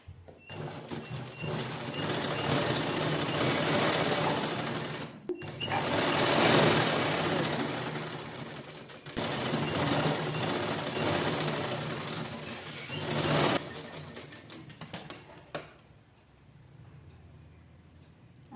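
A sewing machine stitches leftover blouse fabric pieces into a cushion cover, running in long continuous whirring bursts with brief stops between seams.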